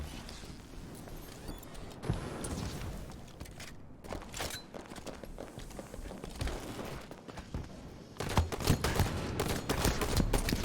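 Rapid gunfire in a competitive video game match, sharp repeated shots and impacts crowding a dense, busy game mix with footsteps and effects, growing louder toward the end.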